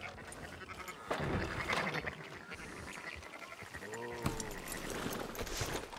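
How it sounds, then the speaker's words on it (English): Sheep bleat in Red Dead Redemption 2, several faint wavering cries rising mid-way over quiet outdoor farmyard ambience. "Fine sheep."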